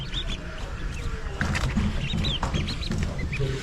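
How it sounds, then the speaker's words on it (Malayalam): Newly hatched purebred Kuttanad ducklings in an incubator cheep in a busy chorus of high, repeated peeps, close by over a constant low hum. "താറാവ് കുഞ്ഞുങ്ങൾ വിരിഞ്ഞിറങ്ങേണ്ടത് എല്ലാം പ്യുവർ കുട്ടനാടൻ താറാവാണ്"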